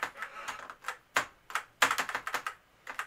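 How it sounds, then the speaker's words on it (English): A computer keyboard's shift key is pressed back into place on the keyboard, giving a quick run of close, crisp plastic clicks and taps in uneven bursts. "gently press down on it, and it'll lock down in"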